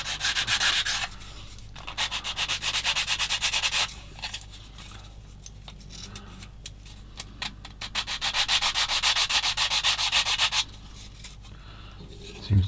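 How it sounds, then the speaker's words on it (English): A new sanding stick rubs back and forth across a 1/35 scale plastic British landing craft model kit, close and steady in rapid strokes, with two long bursts separated by a quieter pause. "Got a new sanding stick out."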